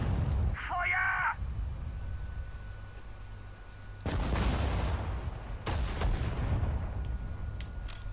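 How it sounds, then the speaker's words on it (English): Artillery fires in the Sudden Strike 4 war game on PS4 Pro, with two heavy booms a couple of seconds apart over a steady rumbling battlefield background. "Feuert aus allen Rohren!"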